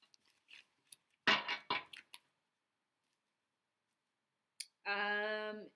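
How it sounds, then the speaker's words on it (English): Tarot cards shuffled by hand during a live reading: a couple of short, quick papery riffling bursts close by, followed after a pause by a brief sustained tonal sound. "One last shuffle."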